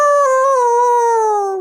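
A human voice imitates a monster's howl: one long, loud, sustained wail that slides slowly downward in pitch and fades at the very end.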